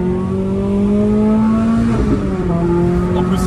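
Renault Clio RS fitted with a loud Cobra exhaust accelerating through a tunnel, a rising engine drone that climbs in pitch, then briefly dips as if shifting, echoing close and loud with no talk.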